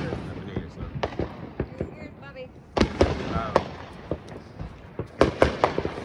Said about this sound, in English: Lots of fireworks.